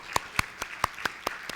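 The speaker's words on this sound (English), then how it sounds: "So if we could just start with a round of applause for all the moms in the room." A small audience in a church claps for the mothers in the room: a few clear, separate hand claps at a steady beat, close and distinct over a quiet room.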